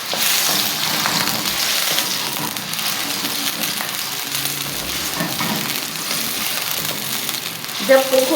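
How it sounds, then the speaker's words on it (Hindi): Potatoes fry first in a pan for a Punjabi-style mixed vegetable sabzi, a loud continuous sizzle with stirring scrapes and a few clinks near the end. "थोड़ा सा गोल्डन टच आएगा पोटैटोज पर, जब तक हमें इसे फ्राई करना है।"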